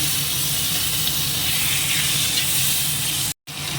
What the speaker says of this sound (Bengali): মাছগুলো আগে সব একটুখানি ভেজে নিই হালকা একটু চটিস করে